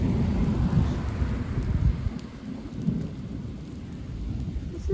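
Thunder rumbles low and heavy through a summer storm, rolling continuously over a steady hiss of rain, loudest at the start and easing slightly before swelling again.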